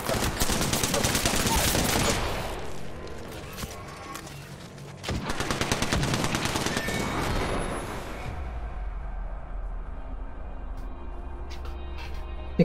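Rapid automatic gunfire from the battle royale shooter Apex Legends, loud and dense bursts that pause briefly and resume, then fade into quieter ambient game sound near the end.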